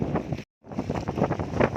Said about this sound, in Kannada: ಎಷ್ಟು ಗಾಳಿ ಬೀಸ್ತಾ ಇದೆ